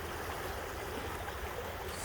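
Yakima River below Reinhardt Park at Mill Pond rushing steadily past the bank, a continuous broadband wash of flowing water with a low rumble, close and unbroken throughout.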